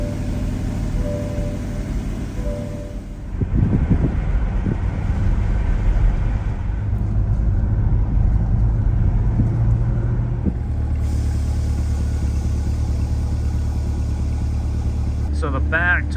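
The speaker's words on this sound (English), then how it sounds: "Take it for a quick drive, settle the suspension" A Chevrolet Corvette C8 with lowering springs and wheel spacers drives along, a constant loud engine and road drone from inside the cabin with a brief surge of noise partway through.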